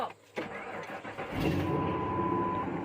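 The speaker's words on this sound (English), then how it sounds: "It's got glass packs, so it's decently loud." A 2000 Ford F250 pickup with a five-speed and glass pack exhaust cranks and fires up, a short stuttering start settling into a loud, steady rumbling idle close by.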